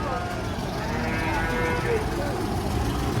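A young bull at a livestock bazaar moos in a low, faint drone under steady crowd hubbub, with no clear breaks across the whole stretch.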